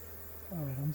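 Honey bees drone faintly at a packed hive with a screened bottom board, a soft buzzing that swells briefly into a clearer rising hum near the end.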